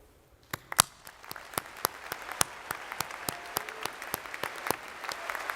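Audience applause at an honors convocation ceremony, starting after a brief quiet and building into steady clapping from a large crowd, with sharp individual claps standing out near the microphone.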